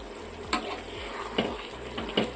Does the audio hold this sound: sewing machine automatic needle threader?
no